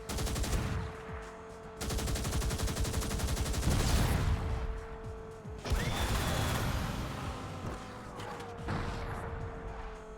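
Rear weapons fire rapidly in the Spy Hunter 2 video game, dense bursts of loud mechanical gunfire coming in several long volleys with brief gaps between them.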